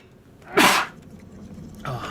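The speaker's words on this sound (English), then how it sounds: "I think I'm gonna sneeze" A single loud, close sneeze bursts out, followed moments later by a softer exhale or sniff.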